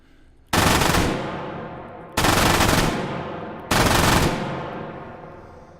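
Three long, loud bursts of an MG42 machine gun in the VR game H3VR, each a ripping stream of rounds followed by a fading echo, separated by short pauses.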